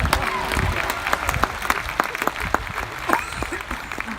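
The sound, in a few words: audience round of applause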